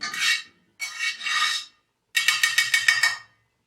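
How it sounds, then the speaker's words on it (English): Metal spatula scraping around the inside of an iron skillet over an open fire, heard as three close, rasping bursts separated by short pauses, the last one breaking into quick repeated strokes. "I'm going to take the spatula and I'm going to kind of go ahead and rub it around all in the pan"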